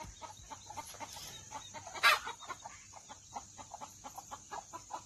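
Hens and young chicks cluck and peep close by in a rural yard, a rhythmic run of short clucks with soft chirps and one sharper squawk early on, no talking.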